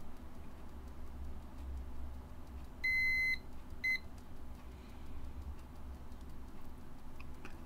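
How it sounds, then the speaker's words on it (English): A Thermco ACC895 thermometer's audible alarm sounds as a short burst of high electronic beeps, then a second brief beep, over a quiet ticking background. "you also get an audible alarm that beeps approximately 10 times, goes silent, beeps 10 more times"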